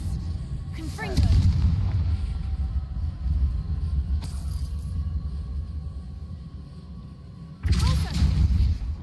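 A Confringo blast spell goes off in the game Hogwarts Legacy, booming with deep thuds and rumbles, two heavy bursts near the start and end over a steady low battle rumble.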